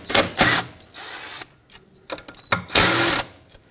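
A power tool whirs in short bursts while removing two 8 mm bolts from the idle air control valve on a 1998-2011 Ford Ranger with a 4.0L V6, with pauses between runs.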